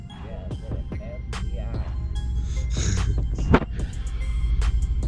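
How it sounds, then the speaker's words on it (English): An Aston Martin engine idling, a low, steady rumble that continues under people talking nearby. "See, it idles nice. I don't know if you guys can hear that."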